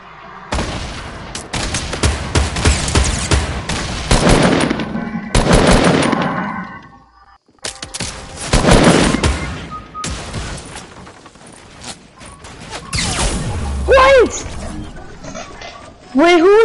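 Fortnite gunfire cracks out in several dense bursts and scattered single shots, fairly loud and close, with a voice talking over parts of the exchange.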